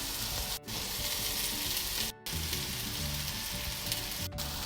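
Rice hisses and crackles in a hot pot as it is stirred, a loud continuous sizzle broken by a couple of brief near-silent gaps, with faint scraping and an underlying hum.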